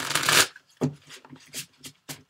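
Cards riffle-shuffled in several quick bursts: a long loud riffle first, then shorter snaps and bridging flutters separated by brief pauses, close up.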